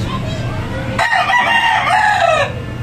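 A lacy roundhead rooster, a gamefowl bought at a 2023 expo, crows once in a strong drawn-out call for about a second and a half, standing out over steady low background noise.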